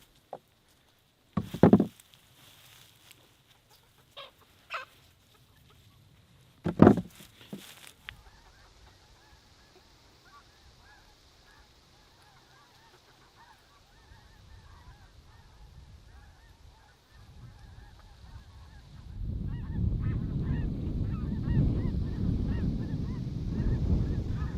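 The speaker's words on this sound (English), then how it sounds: "They kind of look like a crane, but they sound like a goose." Geese or cranes honking outdoors beside a potato garden, a few loud sharp calls early on, then quieter intermittent honks, with a rising rustling wash toward the end.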